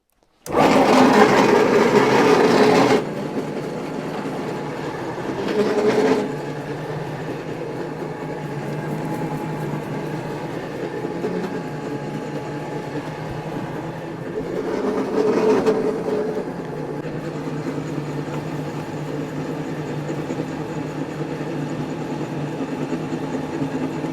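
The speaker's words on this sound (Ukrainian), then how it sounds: "Це отакий звук був, ну коли ролики без нагрузки" A Rotex-200 pellet mill runs with its rollers turning empty against the bare metal die, a steady grinding mechanical hum with a few louder surges, no speech over it.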